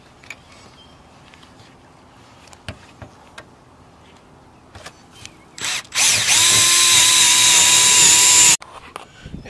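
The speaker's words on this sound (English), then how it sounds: "Alright, I'm gonna drill my hole." A power drill bores a hole into a roof while L brackets are fitted for an Ironridge XRS solar panel mounting system, a single loud steady whine lasting a few seconds after scattered tool clatter and handling knocks.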